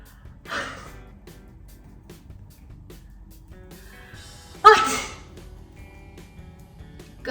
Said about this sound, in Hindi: कंटिन्यूस छींकें आई जा रही हैं। अचानक से जैसे पता नहीं फ्लू हो गया है